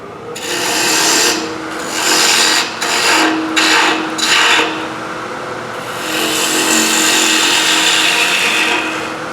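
Small bottom-feeding gouge cutting wood on a lathe for a square oriental box, loud rasping shear in repeated passes, separated by brief pauses, close up.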